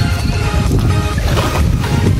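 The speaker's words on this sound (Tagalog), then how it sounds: "Ang lakas ng hangin, ha? Malakas yung hangin niya" Strong wind blows over open water near a small boat, a loud continuous rush and buffeting against the microphone with no pauses.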